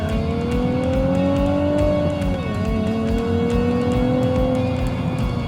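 A 2016 Nissan 370Z Nismo accelerates hard, its engine note rising loud and close in a continuous climbing roar. A brief dip around a shift follows before the pitch keeps building.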